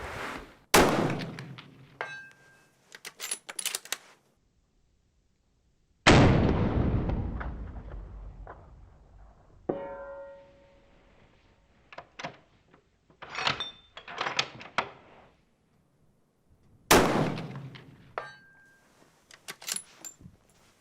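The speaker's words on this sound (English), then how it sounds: "3 shots, 3 hits at 300 yards." Rifle shots with Hornady Outfitter ammunition fired at steel targets 300 yards away: several sharp, loud reports with rolling echoes, separated by quiet gaps, with faint metallic ringing between some shots.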